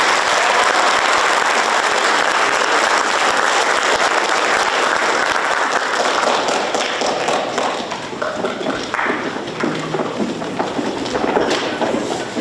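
Sustained audience applause at a high school FFA awards ceremony, steady and dense for the whole stretch, thinning slightly toward the end with scattered claps.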